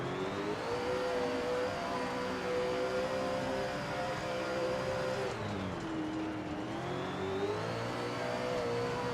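Late model race car engines roar in the SRX racing game, a steady loud drone that dips briefly midway as the car shifts or brakes, then climbs again with rising revs.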